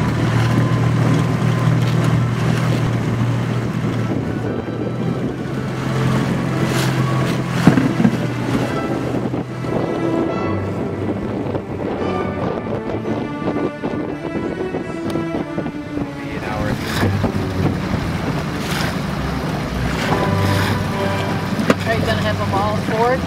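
Rowboat moving across choppy water, with steady wind and water washing around the hull and splashes from the strokes, people talking throughout.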